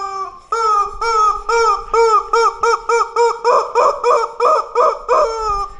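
A chicken clucks loudly and close by in a rapid, regular run of short calls that grow more insistent toward the end.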